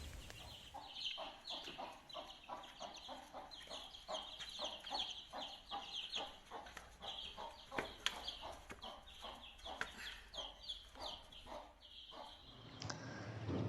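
A hen clucks in a quick, steady series of short notes, close by, with faint peeping from chicks.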